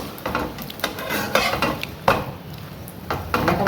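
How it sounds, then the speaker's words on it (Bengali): A paratha fries in oil in a pan, with soft sizzling under repeated scraping and stirring clinks of a utensil against the metal, close and fairly quiet, no voices. "এবার পরোটাটা একটু ভেজে নেব তেল দিয়ে।"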